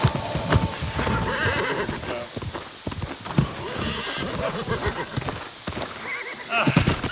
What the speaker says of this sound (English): Let's run with the white horse a little bit.